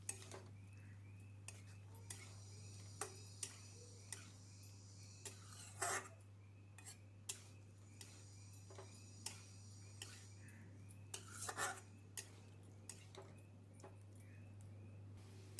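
A utensil stirs fried eggs and potatoes into spices in a pan, producing faint, regular light taps and scrapes against the metal over a low steady hum.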